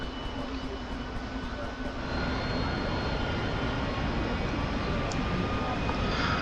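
An AV-8B Harrier jet engine spooling up in the DCS flight simulator, a steady loud roar that swells in intensity partway through and holds, with a faint voice under it.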